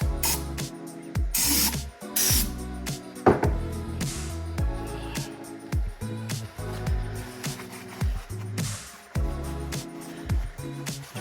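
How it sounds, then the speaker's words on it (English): Brake cleaner sprayed onto LS engine heads and exhaust parts comes in repeated sharp aerosol bursts of hiss, separated by rubbing and handling noises, close by without any talk. "Spray it with some brake clean."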